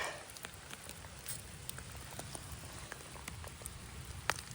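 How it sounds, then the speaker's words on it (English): Rain falls outdoors at a camp while rocks are being foraged. A steady, soft patter is broken by sharper individual drops ticking close by on a surface. "It's hard to do when it's raining like this."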